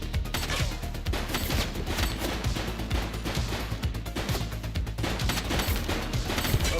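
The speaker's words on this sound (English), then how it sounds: "He's shooting!" Sustained gunfire in the police game Precinct, rapid overlapping shots and bursts cracking without pause for several seconds, loud and dense with no voices.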